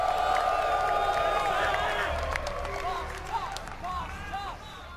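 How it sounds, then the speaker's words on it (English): Crowd cheering and clapping at an esports event, the Red Bull Battle Grounds tournament in NYC, a loud sustained roar with whistles and shouts that gradually thins toward the end. "Cheer for SKMC!"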